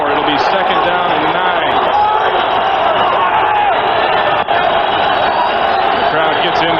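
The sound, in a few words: football stadium crowd cheering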